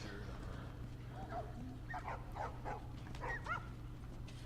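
Dogs bark and yip in The Last of Us video game, a few short, fairly distant barks over a steady low hum, with faint talk in the background.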